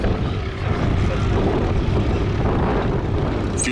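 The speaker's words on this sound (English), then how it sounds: "Bear in mind there's a little biplane built in the 30s." A 1930s Hawker Fury biplane passes at an air display, its propeller engine giving a loud, steady, rough drone that holds throughout the pass.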